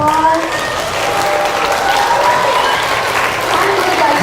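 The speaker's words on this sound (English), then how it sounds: "Give him a round of applause." A school audience of fifth graders applauds a guest brought onstage at a middle school presentation, with dense sustained clapping and some crowd cheering, loud and continuous throughout.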